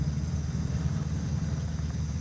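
A truck engine idling with a low, steady rumble and constant vibration, even and unbroken throughout, with no voices over it.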